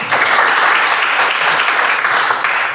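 Sustained applause from a classroom audience during a school teaching-practice session, a dense, steady wash of many hands clapping together at close range for the whole stretch, with no voices standing out.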